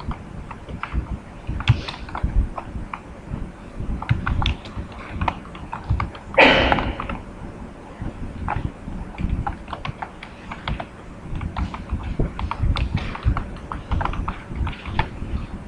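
Steady, fast typing on a computer keyboard while writing code, dense close key clicks with a brief louder clatter midway, no speech.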